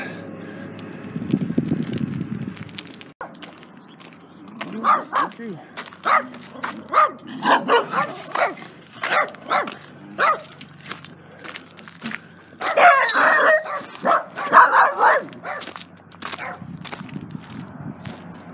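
Dogs in a Prescott, Arizona neighborhood bark in a string of sharp, uneven bursts, clustered loudest in the middle and later stretches. Quieter voices and background noise come and go between the barks.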